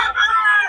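A rooster crows loudly and close by, one sustained call filling the short moment.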